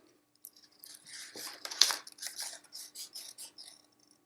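Scissors snip through paper to cut out pieces for a yo-yo craft, a close series of crisp, quick cuts in a steady, slightly uneven rhythm with brief pauses between strokes.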